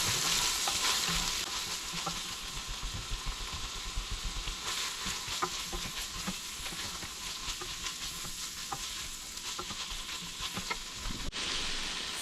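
Thawed baked beans in a hot pan give off a steady, dense sizzle that runs throughout, with soft scraping and stirring strokes scattered over it and no voices.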